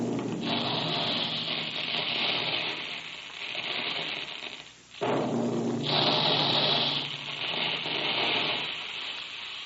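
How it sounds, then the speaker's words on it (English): Puffing guns in a Quaker cereal plant shoot out puffed wheat and puffed rice as a broad, rushing roar that holds steady, dips briefly near the middle, then surges back louder, with no voices over it. "That's the sound you hear when puffed wheat and puffed rice are shot from special guns in the Quaker plant"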